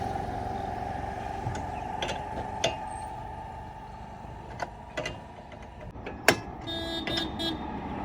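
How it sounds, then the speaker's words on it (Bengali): A car horn sounds on a wide road near Purulia beside a stopped vehicle with a flat tyre. Short toots stand out over the steady drone of passing traffic, with one louder blast near the end. "হর্ন দিচ্ছে কেন?"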